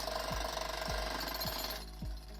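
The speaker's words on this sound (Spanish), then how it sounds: "los martillos neumáticos son los reyes" A jackhammer pounds away at a steady, fast rhythm, loud and close, with a thick mechanical hammering that eases slightly near the end.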